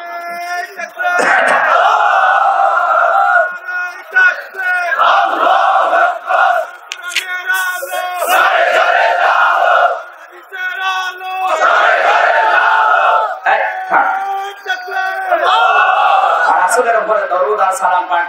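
A large crowd at an Islamic sermon gathering in Noakhali, Bangladesh, roars a loud, sustained chant in repeated waves in answer to the call for takbir, with voices swelling and dipping together over the whole span.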